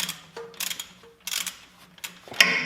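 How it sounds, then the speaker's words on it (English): Wrench clicking and ratcheting on a bolt while removing the backhoe attachment from an LS MT232 tractor, with several short bursts of metallic ticks and a sharper clank near the end, close and fairly quiet. "Then get our wrench, I'll take this bolt out here."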